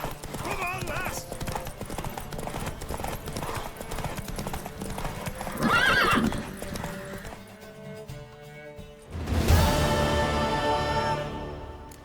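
A horse in The Witcher 3 gallops with rapid clip-clop hoofbeats, then a loud neigh and whinny breaks out near the end, with game voices talking over the hooves.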